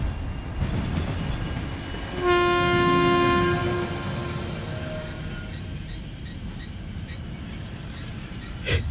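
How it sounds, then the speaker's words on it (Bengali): A train pulls into Rasulpur station at night, its loud horn blaring for a few seconds over the rolling rumble of the wagons, which then eases off as it slows. "ট্রেনটা শব্দ করে রসুলপুর স্টেশনে দাঁড়াতেই"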